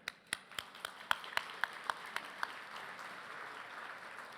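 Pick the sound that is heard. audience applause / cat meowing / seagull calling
audience applause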